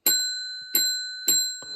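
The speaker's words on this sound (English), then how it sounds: "We'll ring the bell" A bell rung four times in a home basement bar, each strike a bright ringing tone that decays slowly, spaced roughly half a second apart, loud and close with no talking.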